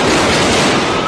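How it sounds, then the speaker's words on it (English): A dense, loud burst of crackling gunfire from news footage of a shootout, continuous and harsh throughout the brief moment, with no talking. "Looks like an exchange of gunfire right out of a Hollywood action movie."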